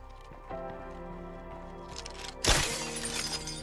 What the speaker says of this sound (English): The zombies don't hear the glass break.